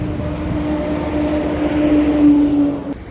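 A sold car pulls away from a used-car lot in Tiruchendur, its engine droning steadily at close range with a rising whine mid-clip before cutting off near the end.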